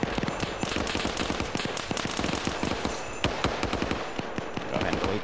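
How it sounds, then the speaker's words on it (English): Machine gun fire in a military video game, a dense continuous rattle of rapid shots with overlapping distant and nearer bursts, while a voice talks over the fighting. "the machine gunners are gonna fire from them."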